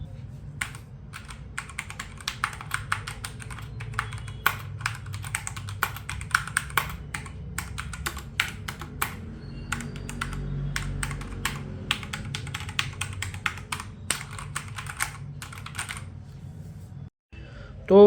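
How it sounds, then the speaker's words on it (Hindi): Steady typing on a Redragon mechanical gaming keyboard with red switches, a close, dense run of soft non-clicky keystrokes with a few brief pauses and no talking. "इस कीबोर्ड की जो हर एक की प्रेस करने पे क्या फीडबैक साउंड क्वालिटी हमें मिलती है वो एक बार हम चेक कर लेते हैं।"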